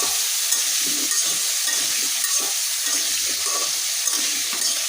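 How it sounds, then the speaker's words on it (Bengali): Potatoes dropped into hot oil and frying, giving a continuous, loud, even hiss with a faint low rumble beneath and no pauses. "তো এবার এই যে তেলের মধ্যে দিয়ে দিব দিয়ে আলুটা ভেজে নেবো"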